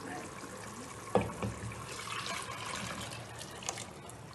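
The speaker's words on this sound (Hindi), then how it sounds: "इसमें अब हम डालेंगे ये पहले जो हमने पानी बॉईल करके रखा हुआ है।" Boiled water pours into roasted masala in a pan while making khandviyan, a soft, quiet liquid trickle with a sharper splash near the start and small drips later.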